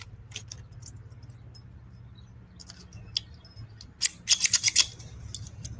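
Scissors snip in sharp metallic bursts, some scattered single cuts and then a rapid run of five or six close, loud snips, with a low hum underneath.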